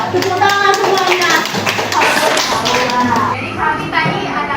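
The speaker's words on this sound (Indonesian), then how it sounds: "Tepuk tangan semuanya." Students in a Year 10 high school classroom clap together in a steady burst of applause lasting several seconds, with children's voices chattering underneath.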